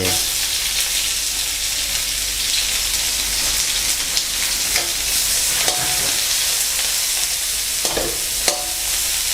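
Garlic and onion stir-frying in a pan for a sea bass and black pepper stir-fry, producing a loud, dense, rain-like sizzle with occasional light clinks of the utensil.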